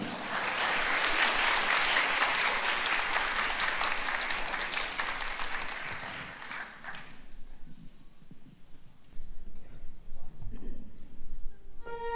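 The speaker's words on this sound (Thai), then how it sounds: "ขอเสียงปรบมืออีกสักครั้งหนึ่งนะยครับ" Audience applause at a Thai string orchestra performance of recited poetry and music, dense and sustained for about seven seconds before fading into scattered claps and room noise.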